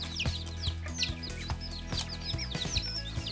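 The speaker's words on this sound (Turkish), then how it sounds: "Ciddi bir ses kalabalığı var." A busy flock of chickens in a mixed poultry coop clucks continuously while many chicks peep high and fast, close and overlapping.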